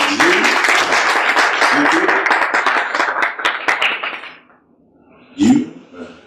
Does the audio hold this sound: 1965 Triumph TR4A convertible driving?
no